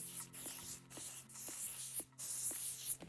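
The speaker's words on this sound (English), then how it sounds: "we want to lock in the style with a little bit of hairspray" Color Wow Cult Favorite hairspray misted onto styled loose beach waves in a series of short hissing spritzes with brief gaps between them, close and fairly soft.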